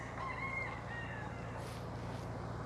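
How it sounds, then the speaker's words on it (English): A cockerel crows faintly in the distance, one drawn-out call over a constant low background hum, with no voices. "cockerel"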